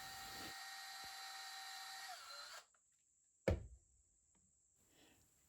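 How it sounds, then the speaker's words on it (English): Power drill boring through a horn into a lathe-turned base plug: a close, steady whirring that winds down and stops after about two and a half seconds, followed by a sharp knock and quiet. "I go ahead and drill through into the base plug."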